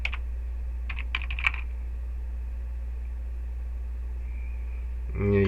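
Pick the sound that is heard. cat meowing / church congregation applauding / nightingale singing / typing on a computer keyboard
typing on a computer keyboard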